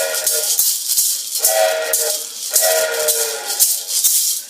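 An improvised musical outro mimics a train coming to a stop, with repeated bright rattling, shaker-like pulses and short tonal whistle-like phrases in a steady chugging rhythm, loud and close with no talking.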